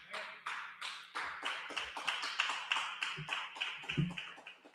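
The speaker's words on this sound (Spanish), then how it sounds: "Un aplauso al Señor." Rhythmic congregational clapping for the Lord rings out in a church service, a steady beat of about three claps per second, moderately distant and fairly quiet.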